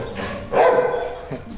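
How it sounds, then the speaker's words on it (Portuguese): A single close shepherd dog bark, short and forceful, with a brief softer yelp trailing after it, outdoors at night. "Você viu lá o pastor rosnando?"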